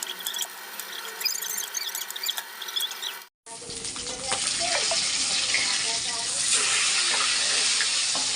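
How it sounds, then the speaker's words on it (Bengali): Taro fries in oil seasoned with five-spice after fish was fried in it, first a quieter sizzle, then after a short break a louder, fuller crackling hiss that continues steadily to the end. "ওই তেলের মধ্যে 5 ফোড়ন দিয়েছি, দিয়ে কচুটা দিয়ে দিয়েছি। কচুটা ভালোভাবে লাল করে ভেজে"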